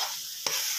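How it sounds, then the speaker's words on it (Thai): Pork and tomato sauce stir-fry in a pan under a steady close sizzle, broken by one sharp spatula scrape. "จากนั้นก ็ใส่ซอสมะเขือเทศลงไปนะครับ ครับ ผัดต่อไปนะครับขยี้หน่อยนะครับ"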